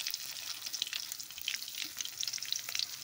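Steady, close sizzling and crackling of onions frying in hot oil with mustard seeds and curry leaves, continuous throughout with occasional spatters.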